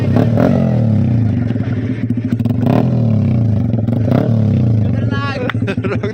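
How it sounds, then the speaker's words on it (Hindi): Yamaha R25 motorcycle with a loud full-system exhaust roaring past on a village highway, a steady heavy drone with sharp bursts, while someone talks over it. "रोक दे भाई साहब, बहुत तगड़ी आवाज आ रहा है। खतरनाक साउंड है। वो ऐसी लग रही है कोई सुपर बाइक है।"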